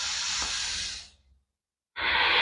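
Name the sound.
long deep breathing in yoga exercise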